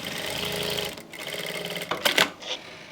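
A sewing machine runs steadily while stitching a kurti's back neck seam, its motor whirring in a continuous buzzing drone that pauses briefly, then resumes with a few sharper mechanical bursts near the end.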